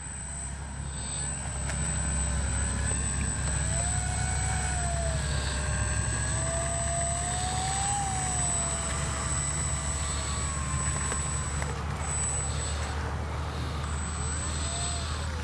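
An X-Fly Spitfire radio-controlled warbird model plane takes off with flaps set, its small electric motor giving a steady, fairly loud whine that rises and dips in pitch as it climbs away over constant outdoor background noise.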